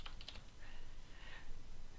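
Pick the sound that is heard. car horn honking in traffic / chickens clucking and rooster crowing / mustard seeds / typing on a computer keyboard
typing on a computer keyboard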